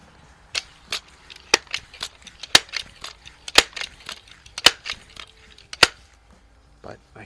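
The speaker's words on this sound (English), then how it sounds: "I'm shooting at 25 yards here," Crosman air rifle shots at 25 yards, a Model 101 and a 362 anniversary edition with open sights: sharp, loud cracks spaced about a second apart, each with a short metallic tail.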